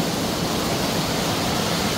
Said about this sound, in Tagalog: Ito naman yung pangalawang level ng falls.